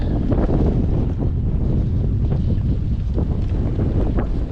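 Strong wind buffets the microphone on Greenbo Lake, a small lake whipped into waves, as a kayaker fights the gusts; a loud, continuous rumbling roar with gusty surges and lapping water throughout.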